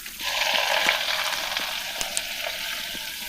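Chopped onion, garlic and dried red chillies hit hot oil for a curd-based mor kulambu, giving a bright, close sizzle that swells early and carries on with a few sharp clicks from the pan.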